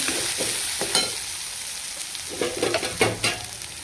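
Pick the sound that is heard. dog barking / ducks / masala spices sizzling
masala spices sizzling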